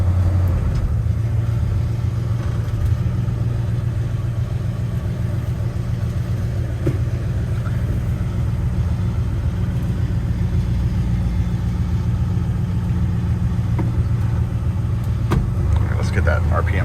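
A 1940 Ford fitted with a Chevy 350 engine idles cold and slightly high, a close, steady low rumble running throughout with faint mechanical ticks and occasional clicks.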